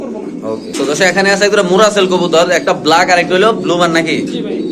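Adana Diglip pigeons coo loudly and close by in repeated throaty rolling bursts, with people talking throughout.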